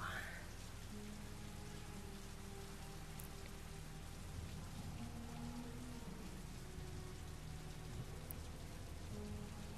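Heavy rain in the video game Heavy Rain falls as a dense, continuous hiss of drops on surfaces, steady and fairly faint for the whole stretch, with a few faint tonal sounds in the background and no talking.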